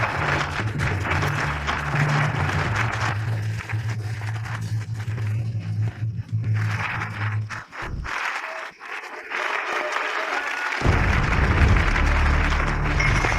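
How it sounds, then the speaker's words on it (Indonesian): Applause greets the bride and groom at a wedding reception, a dense steady wash of clapping lasting throughout, with a brief dip partway before swelling back up louder to the end. "mari kita bersama-sama memberikan tepuk tangan meriah untuk menyambut pengantin pria tampan"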